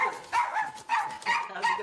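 Jose, an energetic dog, barks about five times in quick succession, the barks loud and evenly spaced.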